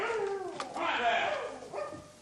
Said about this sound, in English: Was it the dog?